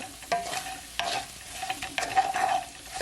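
Shrimp for salt and pepper shrimp stirred and frying in a pan, a steady close sizzle broken by scraping stirs and clatter at intervals, with no voices.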